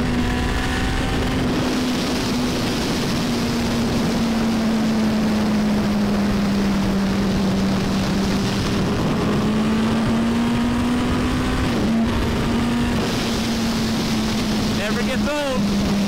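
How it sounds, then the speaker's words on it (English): A turbocharged Hayabusa motorcycle riding at speed, its engine droning steadily with the turbo spooling and building boost, a rising whine over heavy wind roar, loud and close throughout. "Spool and boost on a bike."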